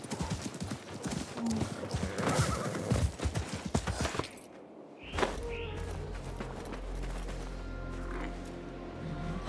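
Horse hooves clip-clopping quickly alongside a neigh in Assassin's Creed Mirage, followed by a sudden drop to a low rumbling in-game ambience, with a faint voice briefly present.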